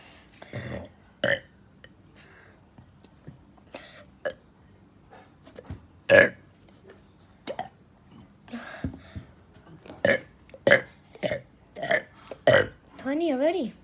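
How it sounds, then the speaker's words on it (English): Repeated burps of varied size, some small and some loud, come in an irregular series through the stretch, with brief pauses between belches and a couple of hiccup-like gulps. "Small burps do count."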